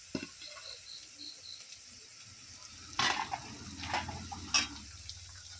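Green chili, onion and ginger fry in a pan for fried rice, with a soft, quiet sizzle and a few sharper scrapes and clinks of stirring partway through.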